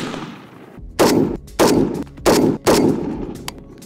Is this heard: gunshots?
yes